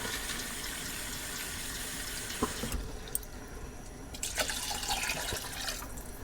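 Water runs from a tap and pours into a saucepan for cooking rice, a soft, steady splashing stream with a few brief clinks and a short pause partway through.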